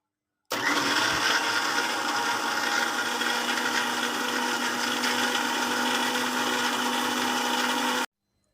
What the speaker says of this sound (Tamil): மிக்ஸியில் அரைச்சின்னு வந்துடலாம்.